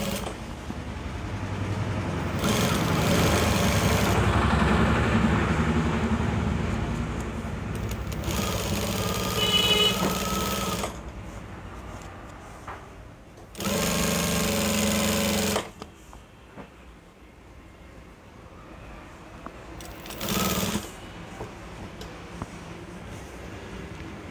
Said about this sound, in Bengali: সেলাই করতেছি, সেলাই দেখা যাচ্ছে কি?